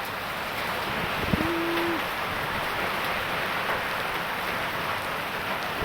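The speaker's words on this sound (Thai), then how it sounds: "ตอนนี้ฝนตก" Steady rain pours down in Vientiane, a dense, even hiss of falling water that carries on throughout at moderate level, with a faint brief tone and a couple of soft knocks.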